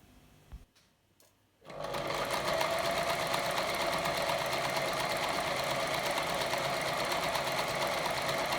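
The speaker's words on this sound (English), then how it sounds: "I'm just going to do straight stitching with my sewing machine" A sewing machine doing zigzag stitching starts after a quiet moment and runs steadily at high speed, a loud continuous mechanical whir with a rapid rhythmic chatter.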